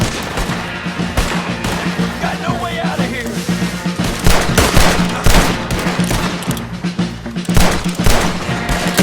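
Video game battle in Red Dead Redemption 2 against troops with a cannon near a fort: rapid, overlapping gunshots crack in bursts and volleys, loud and close, while characters shout over the fighting.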